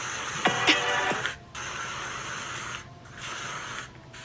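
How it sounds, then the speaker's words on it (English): Hairspray misting over a styled swoop bang in short hissing bursts, several close sprays broken by brief pauses, with no talking. "and you're gonna spray."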